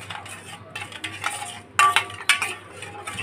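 Milk powder being stirred into a mixture with a spoon in a bowl while making fried naan paratha dough, a series of soft scraping and clinking strokes with two sharper knocks near the middle, close and fairly quiet.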